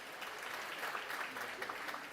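Warm audience applause rings out at a heads-of-state annual meeting of the African Development Bank, a steady, dense clatter of clapping that stays fairly distant and soft throughout.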